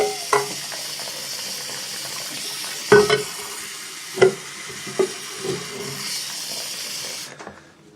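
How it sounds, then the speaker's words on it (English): A pan of dish soap and caked-on grime boiling on a stove, a steady bubbling hiss with occasional clinks and scrapes of a utensil against the metal, close and without talk. "I think I'm going to let this boil a little bit longer"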